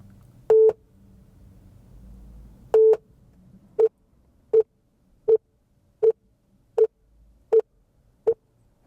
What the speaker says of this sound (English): You'll hear 9 series of beeps, and it's basically calibrating your microphone echo